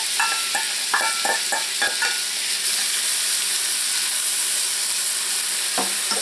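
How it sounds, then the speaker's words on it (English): Two yellow onions sautéing in olive oil over a little under medium heat, with a steady bright sizzle throughout and a quick run of spoon-scraping stirs near the start, no talking. "So I'm just going to start off with a few onions here. This is actually 2 yellow onions. And some olive oil."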